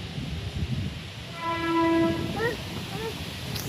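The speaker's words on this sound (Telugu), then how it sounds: "అక్కడ ట్రైన్ పోతుంది." A train passes near a park as rain approaches, sounding one long, loud harmonic horn blast in the middle over a low rumble and faint outdoor background.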